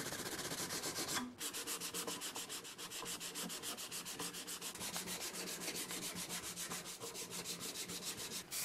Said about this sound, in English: I switched to finer grit paper to do the final sanding on the blade and the handle